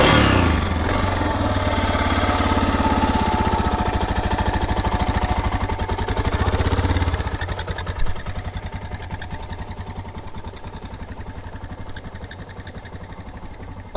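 A motorcycle engine idles and runs at low RPM while the clutch is worked, a steady close-up chugging rumble that drops in level partway through and carries on in a quieter, rougher pulse.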